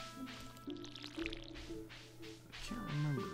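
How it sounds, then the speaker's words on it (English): A dog's water bowl being filled in the Stardew Valley farming game, a brief watery pour and drip sounds over gentle melodic game music, fairly quiet. "Put some water in the dog's bowl"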